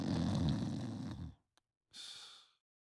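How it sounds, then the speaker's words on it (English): A Persona 4 Arena Ultimax character snores in a deep, rumbling inhale that fades out, then after a brief pause a softer, breathy wheeze follows, close and alone. "That's how I used to snore"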